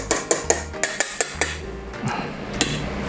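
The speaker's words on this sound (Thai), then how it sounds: "ตีจนมันตั้งยอดอย่างนี้นะ" A whisk beats egg whites to stiff peaks in a bowl for fluffy cloud eggs. Sharp metallic clicks and taps strike in a quick, uneven rhythm, then slow and thin out, with no talking.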